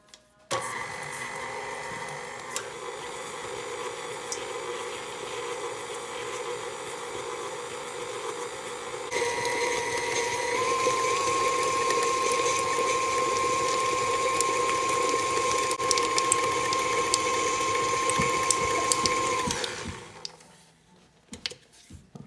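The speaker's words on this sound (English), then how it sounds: "We want to put our beater on here. And you want to start this out on slow" An electric mixer fitted with a beater creams powdered sugar for a hazelnut chocolate freezer pie, a steady mechanical whir with a faint rattling that grows louder and higher partway through after a speed change, then winds down and stops.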